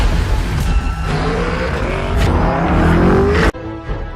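A twin-turbo V8 Lamborghini SUV engine revs hard and roars at full throttle, surging in pitch before cutting off abruptly near the end.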